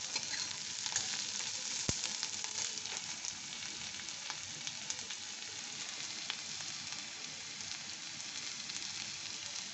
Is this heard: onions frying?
yes